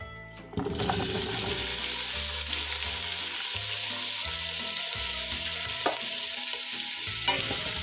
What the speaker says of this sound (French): J'ai mis l'huile dans la casserole à feu moyen et je vais mettre mes légumes dedans.